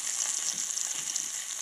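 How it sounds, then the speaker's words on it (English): Chopped onions brown in a pan on a wood stove with a close, bright, constant sizzle. Faint crackles run through it. "you're going to chunk those onions in there and let them brown."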